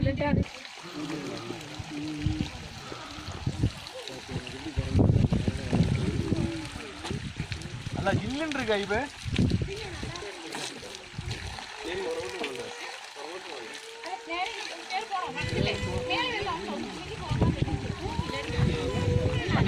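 Water flowing and trickling along a stream in Eravikulam National Park with occasional splashes, heard close, while people talk over it throughout.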